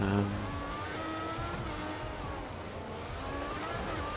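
Sauber Formula 1 car in the F1 2014 racing game at the Nürburgring, its engine droning steadily with tonal harmonics and rising pitch sweeps as it oversteers, loud and continuous with faint background voices.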